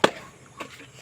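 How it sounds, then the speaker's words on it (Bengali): A football is kicked lightly on a muddy pitch, giving one soft, close thud at the very start, followed by quiet outdoor ambience with a couple of faint scuffs. "শট মেরে দিলাম হালকা করে"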